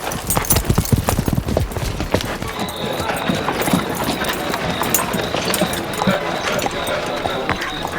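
Horses travel at a steady pace, hooves clip-clopping in a loose rhythm close by, with voices talking over them and a faint whinny-like call.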